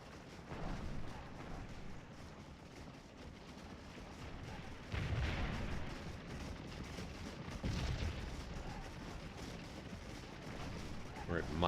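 Massed troops firing from behind a fence in the Civil War battle game Scourge of War: scattered musket volleys and distant booming gunfire, rumbling and fairly faint, with someone talking over it.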